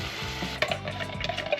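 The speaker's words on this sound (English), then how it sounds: "Give it all a good stir." Chopped tomatoes from two tins being stirred in a pan, giving a soft, continuous wet scraping and squelching with a faint sizzle, close and fairly quiet, with no talking.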